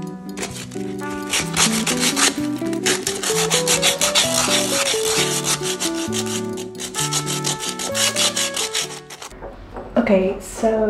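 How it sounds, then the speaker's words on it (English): Rhythmic back-and-forth sanding of an old wooden staircase, a continuous scratchy rubbing in quick strokes, close and fairly loud throughout. "I've sanded everything down"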